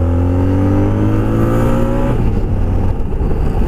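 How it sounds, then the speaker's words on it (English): A Honda Pan European ST1300 motorcycle engine revs up loudly to about 6,000 rpm with rising harmonic tones, then drops off sharply as the gear changes, leaving a rough, close mechanical rumble. "You heard a bit of the roar of the engine there."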